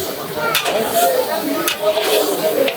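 Twenty kilograms of beef hits a pot of browned onions for kala bhuna at a Rajshahi shop, giving a steady loud sizzle and hiss with stirring scrapes while people talk over it.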